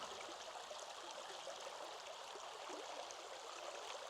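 A shallow river flowing over rocks near waterfalls, steady close rushing and trickling water at a constant level throughout, no voices.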